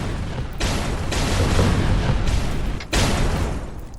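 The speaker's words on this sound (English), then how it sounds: "get out because it's about to explode" In the video game Volcanoids, a loud, sustained explosion rumbles with heavy booming bursts, cuts off briefly, then roars again before tapering away.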